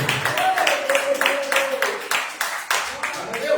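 Church congregation clapping together in a rhythmic, evenly spaced beat to welcome someone speaker, with a sustained musical tone underneath.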